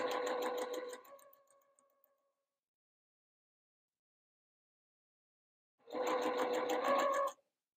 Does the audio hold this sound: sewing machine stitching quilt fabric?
yes